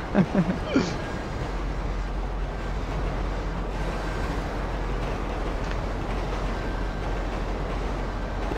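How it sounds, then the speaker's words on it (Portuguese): A train passes at close range with a loud, sustained rumble and rattle of wagons, and brief voices near the start. "Cuidado com o trem, cuidado com o trem."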